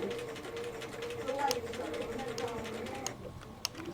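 A sewing machine stitching piping onto a collar: a steady, fairly quiet mechanical whir with a rapid ticking stitch rhythm and a few sharp clicks, as a voice talks over it.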